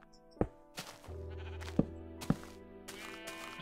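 Sheep bleat in a farming video game, several short wavering calls spread out over a few seconds alongside soft thuds and quiet game tones.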